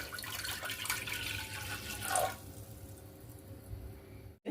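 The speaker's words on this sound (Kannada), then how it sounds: "ಅದರಲ್ಲೇ 1 ವಾಟ್ಗ ನಾನು ನೀರು ಹಾಕೊಳ್ಕತ್ತೀನಿ" Water poured from a cup into a pot to make rava sandige, a steady close splashing stream for about two seconds that then drops to a quieter trickle and stops.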